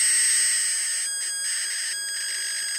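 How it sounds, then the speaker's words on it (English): Chaotic Chua diode circuit in Rössler attractor mode putting out steady high-pitched electronic noise and tones, faint and continuous with a few brief dropouts. "then you should be able to hear the random noise"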